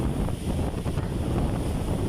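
Strong typhoon winds from Typhoon Crising batter the open shore of Baseco Beach in Tondo, Manila, a loud continuous roar with rushing buffeting, likely mixed with surf, and no talking.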